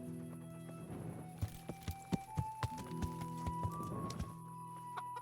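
Horse hooves clip-clop in a steady gallop rhythm in the medieval game Kingdom Come Deliverance, moderately close and fairly quiet, with game ambience and occasional tonal sounds behind them.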